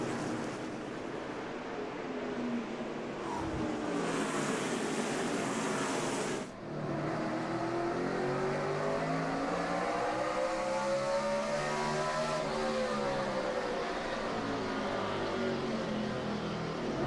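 A pack of NASCAR race cars roars around the short track in the 2007 Goody's Cool Orange 500, a dense, loud engine drone with rising and falling passes and no talking.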